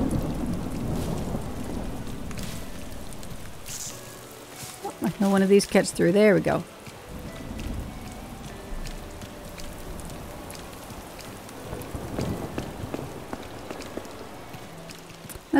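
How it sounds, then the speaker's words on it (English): Thunder and steady rain on a stormy summer night on an Animal Crossing island, a constant wash of rainfall with low rumbles, while a person talks over it throughout. "I love this stormy night."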